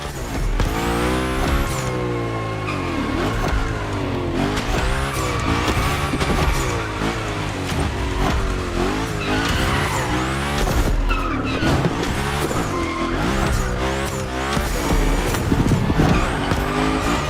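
A car slides through gymkhana training runs in the racing game The Crew Motorfest, its engine revving hard and wavering in pitch as the tires squeal continuously at a steady, loud level from start to finish.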